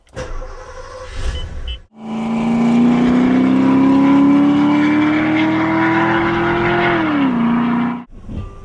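A Porsche 928 engine pulls steadily through a long smooth acceleration heard from inside the car, its loud, rising drone holding for several seconds before dropping at a gear change, with brief quieter moments before and after.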